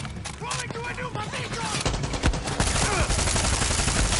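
Fully automatic gunfire in the video game Far Cry 6: rapid, dense bursts rattle continuously, loud and close, with a voice shouting over the shooting.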